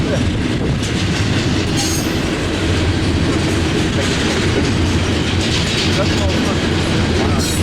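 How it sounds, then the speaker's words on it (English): A train rumbles past close by at Summit on Cajon Pass, steady and loud, with rhythmic wheel clatter and metallic rattling throughout. "the first train that we have is right here in Summit."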